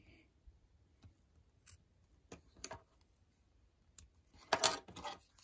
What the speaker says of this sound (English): I'll cut off the ends of my bungee